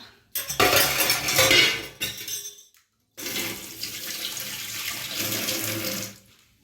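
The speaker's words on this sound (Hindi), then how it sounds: "जूठा बर्तन रख देते हैं।" Dirty dishes set into a kitchen sink under running tap water: a steady gush with clinks and clatter of utensils and pans, a short pause of silence, then the water runs on more softly.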